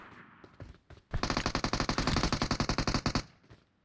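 Rapid automatic gunfire rattles in a One Man Squad shooter match, a loud burst of about twenty evenly spaced shots lasting around two seconds, preceded by a few scattered single shots.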